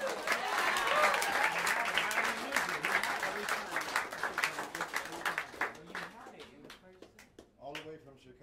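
Audience in a New York jazz club claps loudly during band introductions, a full burst of applause and whoops that gradually thins into scattered claps while someone speaks into the microphone.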